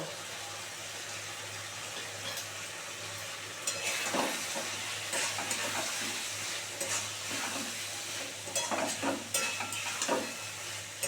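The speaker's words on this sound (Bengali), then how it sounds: "এবার মোচাটা দিয়ে দিচ্ছে না মধ্যে" Chopped banana flower being stirred and fried in a pan for a Bengali mocha ghonto, a continuous near sizzle with repeated scraping stirs that grow busier after the first few seconds, no voices.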